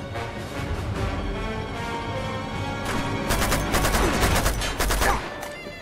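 Sustained bursts of automatic gunfire in Uncharted 2: Among Thieves Remastered, loud rapid cracks building to a heavy volley near the end, with no talking over it.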